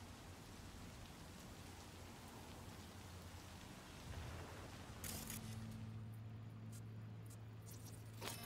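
Steady rainfall hissing continuously in the video game Cyberpunk 2077: Phantom Liberty, with a low hum joining partway through.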